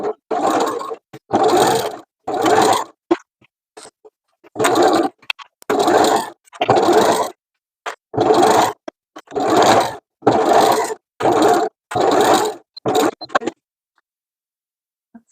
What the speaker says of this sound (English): I'm nesting my seams so the seam allowances go in opposite directions. I want them to look lined up when they are sewn.